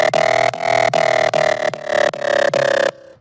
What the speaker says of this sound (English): It's literally like a saw wave with like a bunch of sync and pulse width together